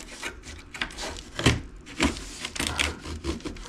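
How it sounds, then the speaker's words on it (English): Scraping and prying at window trim on a 1977 Buick Regal, with a string of short rubbing and clicking bursts close to the microphone and no talk. "I'm gonna be pulling this window trim"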